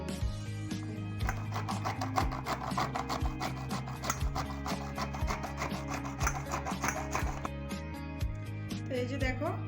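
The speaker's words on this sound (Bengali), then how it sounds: "নারকেলটা আমি খুব সুন্দর করে গুঁড়ো করে নিয়েছি, মানে গ্রেট করে নিয়েছি।" Coconut is rubbed against a medium-size grater in quick, regular rasping strokes, a steady scraping rhythm heard up close in a home kitchen.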